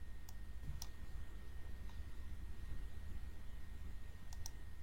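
A computer mouse gives a few faint, sharp clicks over steady background hiss while the Show Formulas button is pressed in a spreadsheet, with a pair of clicks near the start and another pair at the end.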